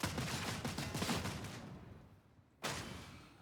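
A bolt gun in Warhammer 40K: Darktide is emptied in a rapid, continuous burst of heavy shots for about two seconds, then after a brief lull a single loud blast cuts back in, close and forceful.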